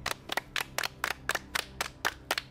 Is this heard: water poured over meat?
no